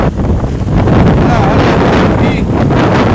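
Strong gusting wind with rain buffets the microphone on a street crossing, a loud, continuous roaring rush that swells and eases, with faint voices underneath.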